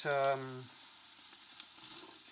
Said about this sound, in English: The idea here is to saute these onions.